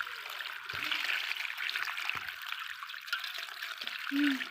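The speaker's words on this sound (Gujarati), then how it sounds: "આપણે જો આ પાણી વડે ધોઈશું પાત્રને" Patra (colocasia) leaves being washed under water, with a steady trickling, splashing flow running throughout and a few soft thumps of handling.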